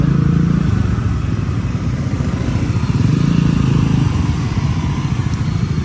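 A motorcycle rides through afternoon traffic in Naga City, its engine a loud, steady low rumble close by with constant road noise.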